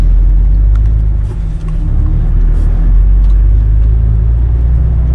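A Mercedes car in Hungary pulls away, its engine a steady loud low rumble with a brief dip before holding a constant drone, heard from inside the vehicle.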